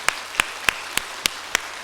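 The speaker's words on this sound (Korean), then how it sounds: "다시 한번 박수 칠까요?" Church congregation clapping together in a steady unison beat, about seven sharp, evenly spaced claps under light room noise, with no talking.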